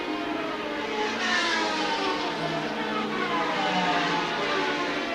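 Superstock racing motorcycles speed around a circuit onto the fastest straight, producing a continuous high-pitched engine whine that rises and falls as the bikes pass, fairly loud with no voices.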